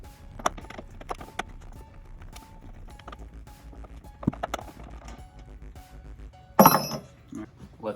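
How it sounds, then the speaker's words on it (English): Bolts come out of a Ford Maverick bedside panel with a T20 star key, giving scattered close metallic clicks and clinks, with a louder rattle of parts near the end. "we're just removing these bolts right now"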